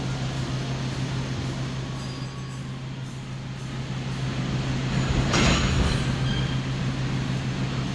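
The KA Sembrani executive night train runs from Surabaya to Jakarta on K10 bogies at speed. A steady low rumble of wheels on rail is heard from inside the coach, swelling with a brief rushing whoosh midway.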